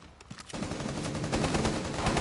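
Rapid automatic gunfire from the video game Rainbow Six Siege on PS4 bursts in after a brief quiet start and continues as a dense, loud, sustained volley.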